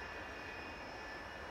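Airplanes taxi on the tarmac in the video game SimAirport, giving a steady, faint jet-engine whine and hum with no talk.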